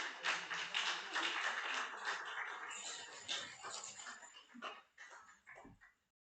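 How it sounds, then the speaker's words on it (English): A service dog on stage at a Canine Companions team training graduation ceremony whimpers and yips in repeated close bursts. The sounds gradually thin out and end in silence. "Please join me in also welcoming Will and service dog Moose the Fourth to the stage."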